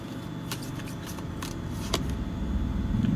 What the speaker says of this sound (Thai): ขอไพ่เพิ่มค่ะ